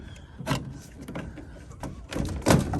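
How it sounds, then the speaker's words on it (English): Handmade door on a recycled pool-frame greenhouse being shut and locked, a few knocks, scrapes and clunks in uneven bursts, fairly close, ending in a louder thud. "It locks because I don't have a door latch thing."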